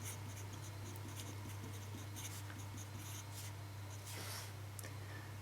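A math equation for a quadratic is written out by hand, giving faint, soft scratching strokes that continue steadily over a quiet background hum.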